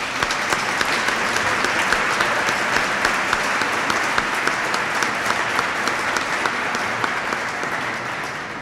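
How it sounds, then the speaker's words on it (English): An audience at a Senate Republican dinner applauds the Army Chorus, a steady, dense round of clapping from a large room, even and sustained throughout. "I think they deserve another round of applause,"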